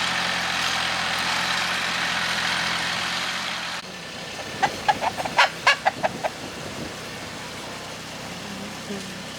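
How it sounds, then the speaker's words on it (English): Backyard chickens being moved to a new hutch cluck in a short burst of clear, close calls partway through, with steady outdoor background noise before and under them. "You're ridiculous chickens."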